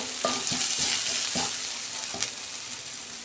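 Chopped onion frying in a pan for dal, with a steady crackling sizzle broken by several sharp spatula stirring knocks near the start and one later, close and fairly loud, with no talking.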